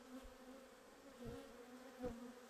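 Honey bees drone steadily at a shaded backyard hive in the woods at Logie Bay, Newfoundland, a faint continuous buzz with a few individual bees swelling closer past the listener.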